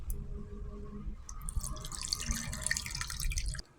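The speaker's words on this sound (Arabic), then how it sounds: "نزيدوه طرف ماء ونسقوا بيه البلاتو نتاعنا" Water poured from a container over a baking tray of ingredients for a Tunisian oven dish, a steady close pour with drips that stops abruptly near the end.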